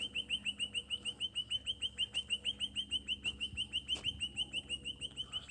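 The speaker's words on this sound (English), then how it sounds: "Local bird life." Local wild birds chirp in a rapid, steady run of clear high repeated notes, close and moderately loud, with a few faint knocks and thumps in the background.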